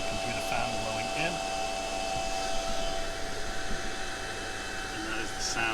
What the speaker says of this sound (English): That's the computer fan blowing in.